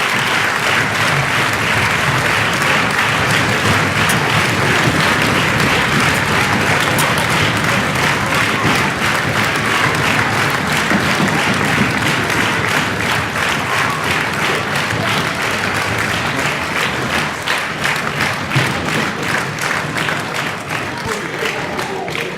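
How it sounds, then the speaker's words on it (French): A large audience breaks into thunderous applause for two women being honored, dense, loud, sustained clapping that fills the room without letup, easing only slightly toward the end. "Je vous demande également de faire un tonnerre d'applaudissements à deux femmes d'exception"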